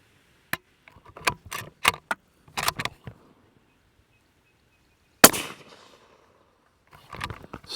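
Rifle firing Magtech ammunition at a range, with a series of sharp, brief cracks and clicks, then one loud shot with a ringing decay, and faint handling noises after.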